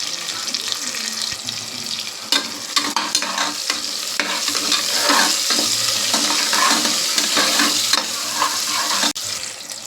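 Chopped onion and garlic sizzle loudly in a pan for a mushroom biryani. A constant frying hiss runs throughout with occasional stirring scrapes close by.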